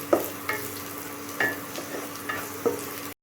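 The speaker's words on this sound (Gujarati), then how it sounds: "ડુંગળી એડ કરીશું ડુંગળીને ચડવા દઈશું" Onions and garlic fry in a pan with a low, even sizzle, broken by several sharp clinks and scrapes of a utensil at irregular intervals.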